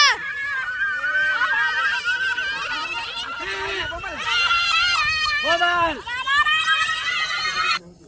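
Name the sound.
children shouting at bonfire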